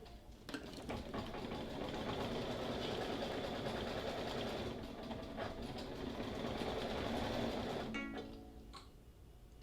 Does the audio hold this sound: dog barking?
no